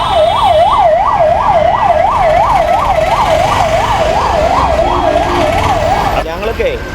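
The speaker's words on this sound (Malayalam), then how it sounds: "ഇത് ആംബുലൻസ് ആണോ വന്നത് നോക്കിയേ" An ambulance on a road with its siren wailing loudly in a fast, regular rising and falling cycle that keeps going for several seconds before it cuts off, over traffic noise.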